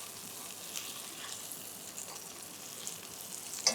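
Duck searing in a pan over medium-high heat, a soft continuous sizzle and frying hiss with faint crackles and a small sharp clatter near the end, heard alone without talk.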